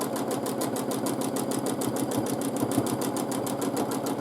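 A sewing machine stitches quilted feather motifs in fabric, its needle hammering in a fast, even rhythm of evenly spaced beats, close and steady with a low motor hum underneath.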